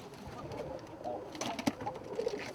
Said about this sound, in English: This is actually a breeding cage of Thai lappers.